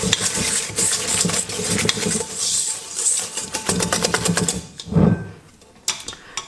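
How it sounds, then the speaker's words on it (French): Rapid, steady clicking and scraping of a whisk beating cream cheese and sugar together in a bowl for a cheesecake, a busy rhythmic rattle that fades out near the end. "Et on va mélanger tout ça à l'aide d'un fouet."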